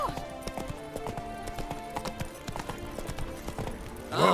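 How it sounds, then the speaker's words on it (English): Horse hooves clip-clop in The Witcher 3: Blood and Wine, a steady rhythmic trot of close, crisp hoofbeats over a game ambience, ending with a louder rustling swell. "Whoa there, Roach."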